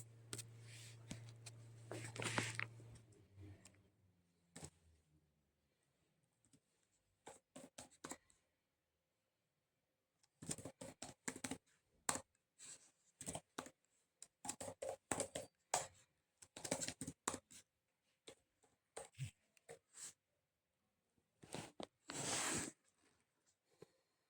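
Someone types on a computer keyboard entering a name into a spreadsheet, quick clusters of close key clicks separated by pauses, with a brief muffled noise at the start.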